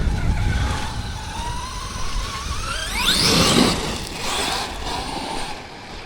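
A Traxxas X-Maxx RC truck on Sledgehammer tyres drives in a bash run, its motor whining steadily with rising pitch sweeps and a surge of scrabbling, rushing noise midway, loud and continuous without talk.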